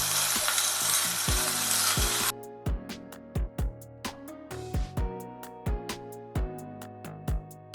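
Sliced okra frying in a pan: a loud dense sizzle for the first couple of seconds, then a run of rhythmic knocks and clatters from stirring as the hiss fades.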